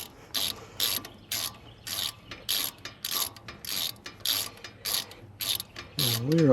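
Ratchet tightening bolts on a 2008 Ford F250 brake caliper, a steady series of sharp clicking bursts at close range, about a dozen strokes in even rhythm, with a brief low whirring sound near the end.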